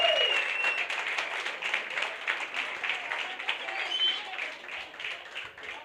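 A church congregation bursts into sustained applause and clapping, a dense crowd sound that gradually softens, with cheering voices mixed in.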